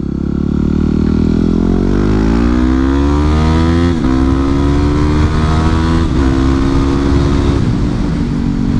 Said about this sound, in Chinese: 那你一听就知道了，我的车有改排气管